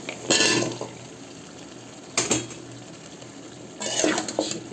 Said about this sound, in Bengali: এখন আমি এর মধ্যে সবজি দিয়ে দিব।